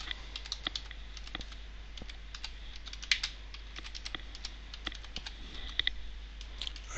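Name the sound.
typing on a computer keyboard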